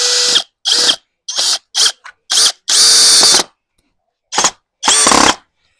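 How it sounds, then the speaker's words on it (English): A Dong Cheng 20v brushless impact drill drives screws into wood in a series of loud, close bursts of whirring and hammering, short pulses alternating with one longer run and clean silent gaps between them. "Just drive those screws in really well without tearing."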